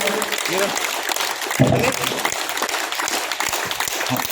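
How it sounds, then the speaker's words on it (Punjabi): A crowd claps loudly and continuously, a dense wash of applause lasting throughout with a few louder swells and no clear talking. "ਇੱਕ ਵਾਰ ਤੁਸੀਂ ਜ਼ੋਰਦਾਰ ਤਾੜੀਆਂ ਮਾਰੋ"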